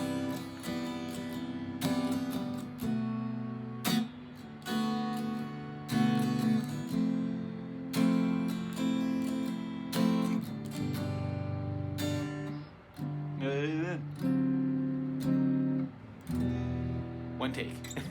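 An electric or acoustic guitar plays a turnaround chord section from a song, strummed chords changing every few beats in a steady, moderate rhythm, close and clear with no talking over it.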